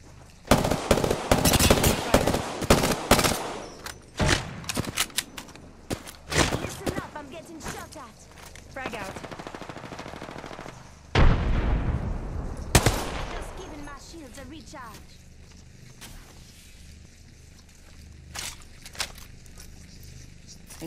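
Gunfire in the video game Apex Legends, with loud rapid bursts of automatic fire and single shots in the first half, then sparser distant shots and footsteps, under intermittent game voice lines.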